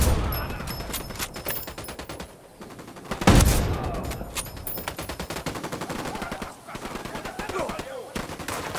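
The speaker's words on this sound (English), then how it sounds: "Unidad's firing on the cartel." Gunfire from the video game Ghost Recon Wildlands as Unidad forces fire on the cartel, dense rapid automatic bursts and cracks rattling continuously, with one louder blast partway through.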